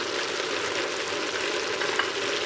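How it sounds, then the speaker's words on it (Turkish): Meat for tahtalı stew sizzles in a pan with spices, tomato paste and onion added, a loud steady frying hiss with occasional stirring scrapes, no talk. "Şimdi etimizi karıştırıyoruz."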